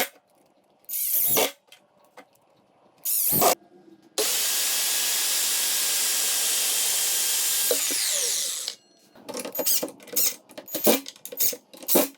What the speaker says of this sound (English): I'm gonna go ahead and start cutting these planks, or cedar planks, fence planks